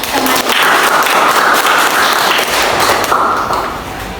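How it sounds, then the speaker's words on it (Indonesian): Schoolchildren clapping in a classroom, a loud, dense burst of applause close by that holds steady for several seconds before easing slightly. "Ya, tepuk tangan."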